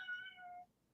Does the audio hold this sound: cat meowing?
yes